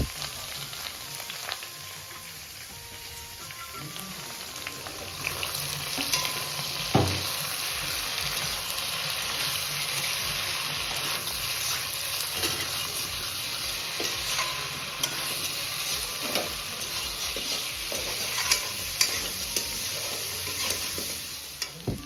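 Turmeric and ginger garlic chili paste fry in a pan for a pigeon curry, giving a steady close sizzle. Scraping stirring strokes and occasional clinks of a utensil against the pan sound over it throughout, with no talking.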